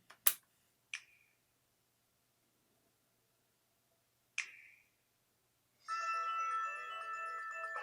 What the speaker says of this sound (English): It actually makes a sound as you put in each controller.